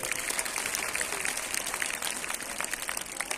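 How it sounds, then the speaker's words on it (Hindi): Audience clapping at a school National Mathematics Day celebration, a steady dense patter of many hands filling the short stretch without a break, moderately loud and unaccompanied by talk. "एक बार जोर से ताली बजाएंगे।"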